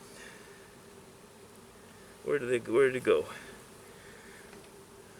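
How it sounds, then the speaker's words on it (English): Male honey bees buzz in a faint, steady drone that runs throughout, while someone speaks briefly over it in the middle. "These are male bees."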